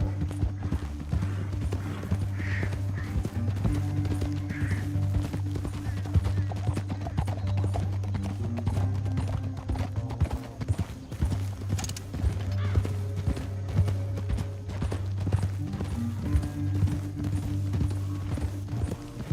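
Horses gallop in the video game Red Dead Redemption 2, a steady clip-clop of hooves over low rumbling ambience for the whole stretch, with a brief whinny and faint talk in the mix.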